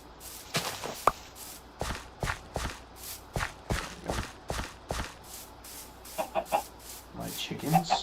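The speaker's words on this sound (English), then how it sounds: "My chickens" Backyard chickens clucking in short, irregular bursts, with footsteps or scratching thuds spread through the clip and a few higher clucks toward the end, moderately near and fairly quiet.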